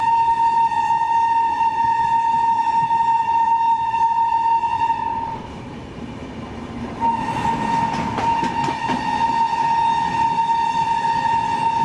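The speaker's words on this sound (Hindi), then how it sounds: "लगातार कंटिन्यूस हॉकिंग हो रही है" A train horn on the Patna Duronto Express blares loudly and almost without a break from the first coach. It dips briefly midway, then returns steady over rumbling wheels and rail clatter.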